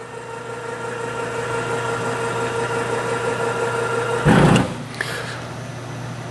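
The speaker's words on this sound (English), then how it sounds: "So this is our hydraulic or electric hydraulic bed lift." Electric hydraulic bed lift on a 2024 Polaris Ranger XD 1500 raises the bed with a short, loud whirring burst lasting about a second. The idling engine hums steadily underneath, and a small clunk follows the lift.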